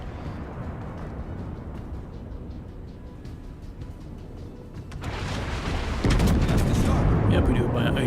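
Warship guns firing a blind shot around an island in a naval battle game, heavy booming reports that build and hit hardest near the end, with continuous rumbling battle noise and a voice talking.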